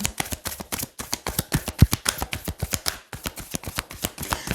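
Tarot cards handled and shuffled up close, a quick run of crisp papery flicks and slaps in a steady rhythm, loud and alone with a brief pause partway through.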